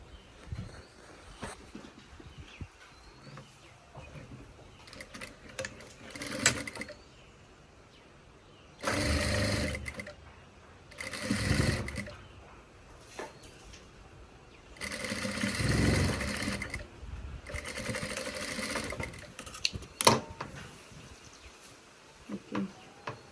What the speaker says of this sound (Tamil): இப்போ என்ன செய்ய போகிறோம்னு சொன்னால் கையை தைப்பேன்